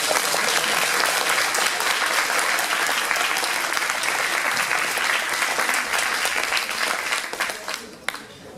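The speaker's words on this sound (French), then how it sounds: "On peut encore l'applaudir." Audience at a cosplay contest in Dijon applauding a contestant dressed as a megalomaniac queen, sustained loud clapping that fades near the end, with a voice talking over it.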